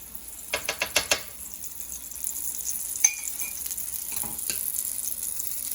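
Corn tortilla quesadilla laid into melted bacon grease in a pan, a steady close sizzle after a few quick clicks and scrapes of handling at the start.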